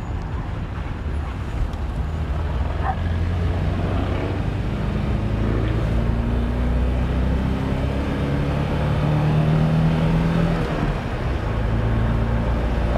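A vintage Porsche, driven for the first time in 25 years, rolls along and takes a turn, its engine a steady low drone with rising and falling tones and wind noise throughout.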